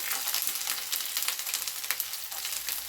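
Garlic frying in hot oil, a dense crackling sizzle that holds steady and close throughout with no voices.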